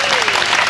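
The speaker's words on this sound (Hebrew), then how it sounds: "הם מוחאים כפיים." A studio crowd on a satirical puppet show applauds an announced appointment, a loud, dense burst of clapping lasting under a second.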